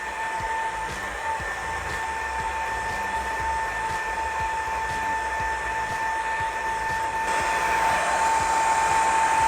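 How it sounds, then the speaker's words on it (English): A heat gun set on low warms a rubber tank grip pad for a 2015+ Yamaha YZF R3, producing a steady, close airy whir with a faint whine that grows slightly louder near the end. "with the heat gun on low, I will heat up the rubber."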